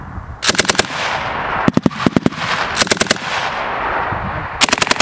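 An M240 machine gun firing in cold weather, four short bursts of rapid, loud, close shots separated by brief pauses, with a steady windy background and no talk.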